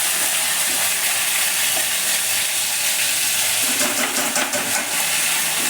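Black masala sizzles in hot oil in a home kitchen, giving a steady, close hiss and crackle that shifts slightly partway through as it is stirred.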